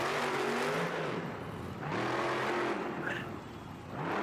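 A monster truck engine roars and revs continuously through a stadium freestyle run, the pitch rising and falling with throttle swells, loud and close with crowd noise washing underneath.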